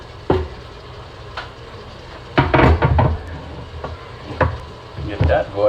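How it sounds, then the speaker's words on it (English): Onions being sautéed in an Instant Pot, with a low sizzle, a wooden spoon knocking and scraping around the pot, and clattering bursts of stirring, fairly close and loud. "So I'm gonna saute the onions now."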